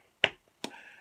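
Two crisp finger snaps, close and sharp, about half a second apart, the second one leaving a faint ringing tail in otherwise quiet surroundings.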